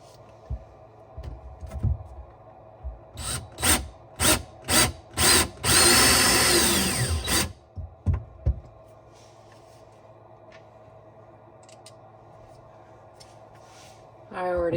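A power drill drives screws into a cabinet in short whirring bursts, then one longer sustained run, close up in a quiet room with some handling knocks.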